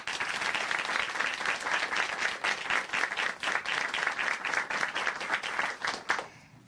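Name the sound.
audience applause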